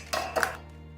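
Eggs and buttermilk whisked together in a bowl for soda bread batter, heard as two quick bursts of clinking and scraping against the bowl, close and fairly loud, followed by quiet.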